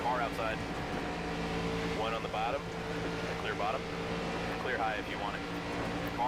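Stock car engines roar around Daytona on a final lap in the NASCAR 25 video game, a steady droning hum with tire and engine whines rising and falling, while a voice talks over the top.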